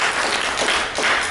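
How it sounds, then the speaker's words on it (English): An audience at a stop-smoking hypnosis workshop applauding: a short burst of clapping from a room full of people, fairly loud and even, with no talking over it. "Give a round of applause, guys."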